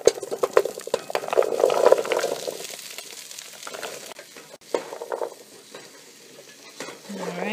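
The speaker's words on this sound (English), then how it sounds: "stir it well to coat everything with the onions and then give it 10 minutes to cook like this, so stirring we will go." Vegetables with carrots and onions are stirred in a pot, giving a steady scraping and stirring over a soft sizzle, busier at first and easing later, close and alone.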